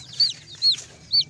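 Baby chicks chirp in three short, bright peeps spaced evenly apart, close and fairly soft over a low background hum.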